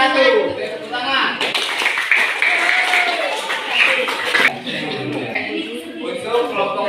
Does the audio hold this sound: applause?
yes